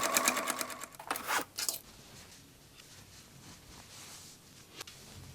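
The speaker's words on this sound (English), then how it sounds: "Top stitch along the upper rim to secure the lining to the denim base." A sewing machine top stitches a lining to a denim bag rim in short quick bursts of rapid needle clatter, then falls quiet with faint handling sounds and a click.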